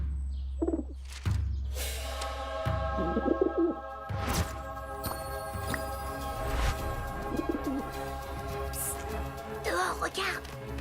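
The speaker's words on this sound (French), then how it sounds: "celui qui a introduit le pigeon en classe" A pigeon loose in a school classroom gives soft, repeated coos amid a noisy room of voices, scraping and bumps, with people talking over it throughout.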